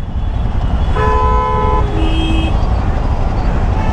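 Busy road traffic with several car horns honking in overlapping tones, loud and close, over a constant rumble of engines and road noise.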